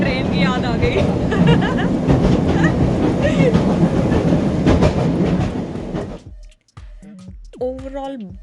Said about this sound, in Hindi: साउंड सुन के इंडिया की ट्रेन की याद आ गई।